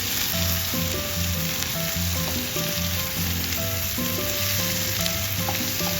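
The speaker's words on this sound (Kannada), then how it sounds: "ಈಗ ಟೊಮೆಟೊವನ್ನು ಹಾಕಿ ಮತ್ತೆ ಒಳ್ಳೆ ಮಾಡಿ ಮಿಕ್ಸ್ ಮಾಡಿ." Tomato being fried and stirred in a pan for egg bhurji, with a steady, close sizzle running throughout and a sustained tonal background.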